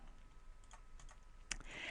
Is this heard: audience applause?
no